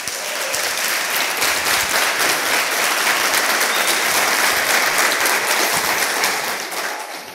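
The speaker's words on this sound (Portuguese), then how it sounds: "Você pode dar uma salva de palmas por isso?" A church congregation breaks into sustained, loud applause during a Portuguese-language sermon, holding steady for several seconds before fading at the end.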